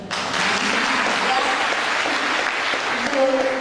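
Applause starts abruptly and carries on as a loud, dense burst of clapping from a group of people, with voices murmuring underneath.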